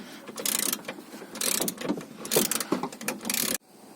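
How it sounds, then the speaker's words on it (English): A wrench ratchets out a bolt while a Mitsubishi Mirage is stripped down near the steering column, giving close rhythmic clicking bursts in several strokes before stopping abruptly. "I'm taking out the last bolt."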